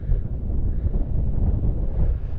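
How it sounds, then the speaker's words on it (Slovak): Cold wind buffets the microphone on a High Tatras mountain ridge near Prostredný Hrot, a steady, loud low roar with gusty swells that runs unbroken throughout, with no voices. "Aj studený vietor do toho."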